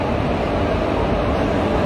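The Sealdah–Bikaner AC Duronto Express pulls out of Sealdah station with a loud, continuous, close rumble of rolling wheels and carriages, steady throughout the short stretch.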